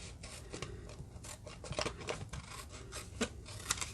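Scissors snip and rasp steadily through a piece of material as it is cut out, close and quiet, with repeated short cutting strokes.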